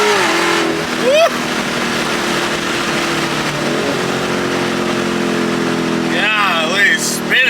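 A Dodge Demon 170 engine, freshly oil-changed, roars steadily through a pull with a sustained droning tone, its pitch shifting near the start and again near the end, and brief voices rising over it.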